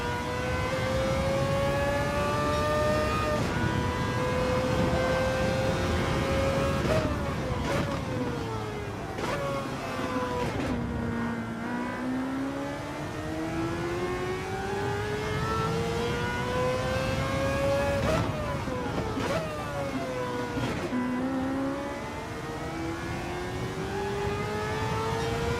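Race car engines in Gran Turismo 7 rev and whine through rising and falling gear sweeps, a loud, continuous drone with several shifts and cars passing, no talk over it.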